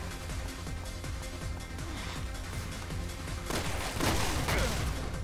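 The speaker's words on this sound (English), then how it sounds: "Fireworks going off everywhere." Fireworks in Resident Evil 6 Mercenaries mode, a dense, continuous crackle of rapid pops and bangs with louder bursts toward the end, moderately distant.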